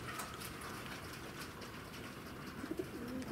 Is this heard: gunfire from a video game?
no